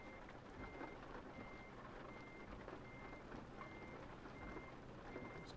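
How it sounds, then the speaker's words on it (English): Truck reversing alarm in Euro Truck Simulator 2, a steady series of evenly spaced high beeps repeating about once a second over a continuous low engine rumble, with no talking. "we're going to have to reverse back onto that by the looks of it"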